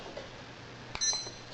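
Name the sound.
timer being started, beeping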